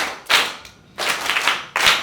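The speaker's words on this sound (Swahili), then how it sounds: "Yesu mfalme, mpigeni makofi." A church congregation claps in three quick, loud bursts separated by short gaps, the hand claps close and crisp with no talking.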